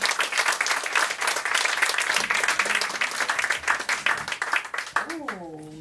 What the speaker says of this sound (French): mesdames et messieurs, on l'applaudit.